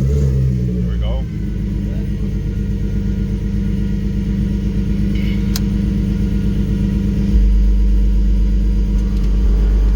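A Volkswagen Cabrio with a VR6 engine cranks briefly on a jump start, then settles into a loud, steady idle with a deep rumble close by, while people talk near the car.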